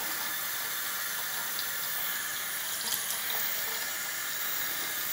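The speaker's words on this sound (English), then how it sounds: "I'll just rinse the spoon a little bit for each one." Tap water runs steadily into a kitchen sink as a spoon is rinsed, a continuous even hiss and splash close by with no talking.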